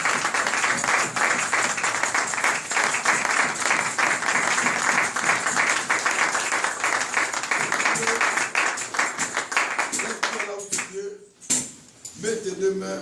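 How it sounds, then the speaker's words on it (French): A church congregation breaks into sustained, dense applause that fills the room, then thins out toward the end as a voice and scattered claps take over. "On acclame."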